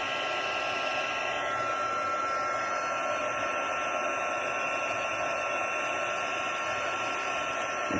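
A heat embossing tool blows hot air over the edges of a card, producing a loud, unbroken fan-like whoosh with a steady whine that runs the whole time.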